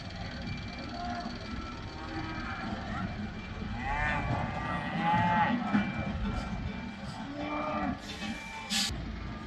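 Cattle mooing repeatedly, several cows lowing over one another amid a busy outdoor background with voices mixed in, at a seasonal cattle drive to mountain pastures in Limonetto, Valle Vermenagna, Italy.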